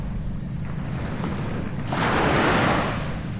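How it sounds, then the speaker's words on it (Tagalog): Strong ocean waves at high tide rush and roar nearby on the Zambales coast, a surge of surf swelling louder midway, with wind noise blowing across the microphone. "Tapos high tide, ang lakas ng ano ng alon, naririnig sa camper van."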